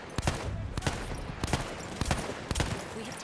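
Battlefield 1 gunfire during multiplayer combat, a steady run of sharp separate shots spaced about every half second, moderately loud against a busy battlefield background, with no voices.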